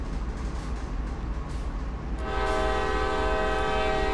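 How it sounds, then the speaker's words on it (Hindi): Train horn of a CSX heavy haul locomotive in Train Sim World sounds loud and steady from about two seconds in, sustained over a low engine rumble that runs through the whole stretch. "अभी एक बार हॉर्न बजा देते हैं, फिर डिपार्ट करेंगे यहाँ से।"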